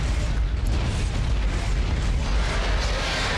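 A sustained, roaring blast rumbles loudly and steadily in the video game Dead Space, dense low-heavy noise filling the whole stretch without letup.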